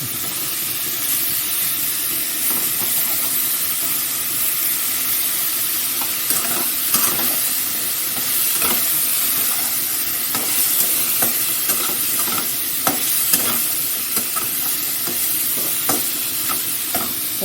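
Tomato is stirred into a jackfruit and shrimp curry frying in the pan. A continuous hot sizzle runs under repeated scraping and clattering stir strokes, near and fairly loud, with no voices.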